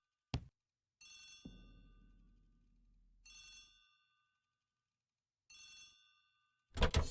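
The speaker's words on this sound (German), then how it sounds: "The telephone in the hall is ringing." An old telephone ringing in a hall, sounding in repeated separate bursts of bright bell tones with quiet gaps between, fairly close and clear, with a couple of sharp knocks or thuds mixed in.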